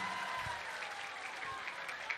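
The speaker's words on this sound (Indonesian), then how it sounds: "tepuk tangan kali-kali khusus ibu-ibu" Mothers in the audience clapping during a religious sermon, a faint, short patter of handclaps with a few sharper claps, fairly distant and without speech.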